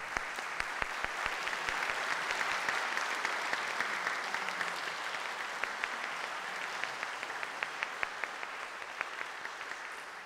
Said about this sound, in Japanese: ぜひ拍手で。